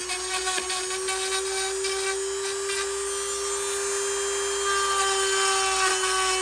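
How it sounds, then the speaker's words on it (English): A Dremel rotary tool chamfers the edge of a Paul Reed Smith guitar body during an EverTune bridge install, giving a steady, close, high-pitched whine that runs throughout with faint grinding of the bit against wood. "I've got to chamfer this edge here"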